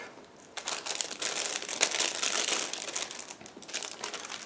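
Plastic crinkles and rustles up close as a plastic bag from a 1/72 scale M1A2 SEP tank model kit is pulled open, a busy stretch of crackling that swells and then eases off.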